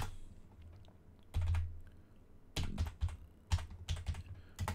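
Someone typing on a computer keyboard while entering rewards in Foundry VTT, clusters of sharp close key presses and clacks arriving in uneven bursts with brief gaps, no voices.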